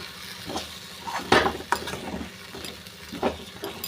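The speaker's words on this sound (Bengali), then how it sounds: "এবারে সবগুলো ভালো করে মিশিয়ে বেশ সুন্দর করে ভেজে নিচ্ছি" Spices fry and get stirred in a pan with a soft background sizzle and several distinct scraping strokes of a spoon against the metal. The sounds are fairly quiet and irregularly spaced.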